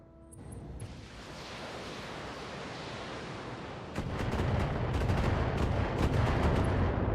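Weapon fire in the Battletech video game, mech combat, with a steady heavy roar of gunfire that jumps louder midway into dense rapid crackling bursts, loud and sustained, no talking.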